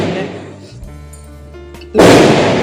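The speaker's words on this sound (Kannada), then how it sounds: "ಆಲ್ರೆಡಿ ಪಟಾಕಿ ಹೊಡೆಯೋದೆಲ್ಲ ಸ್ಟಾರ್ಟ್ ಆಗಿದೆ" A sustained tone fades out, then a loud Diwali firecracker bang bursts suddenly close by near the end.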